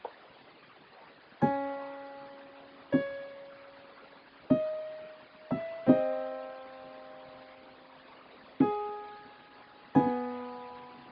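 An organ plays a slow song as single tonal notes, about seven in all, each struck cleanly and left to fade before the next. The notes are played alone, unevenly spaced, with no voices.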